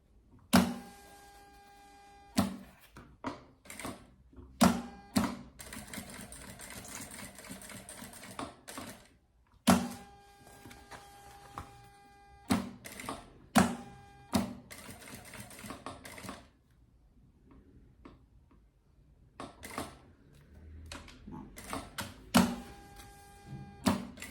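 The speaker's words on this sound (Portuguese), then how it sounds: "E segue costurando toda a borda da etiqueta." A sewing machine stitches around the edge of a luggage label in quick close bursts, its clattering runs broken by pauses and sharp clicks as the fabric is turned; no talking.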